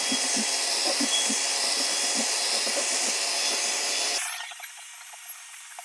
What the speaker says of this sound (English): I'm going to mix the epoxy first.